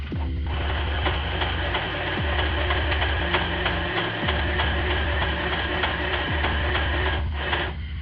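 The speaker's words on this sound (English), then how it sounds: "you're just going to go ahead and stitch the entire line of the booklet" A sewing machine stitches along the fold line of a zine booklet, making a loud, close, rapid mechanical whir with a regular needle rhythm and brief pauses or speed changes every second or so.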